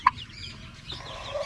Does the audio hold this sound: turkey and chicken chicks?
yes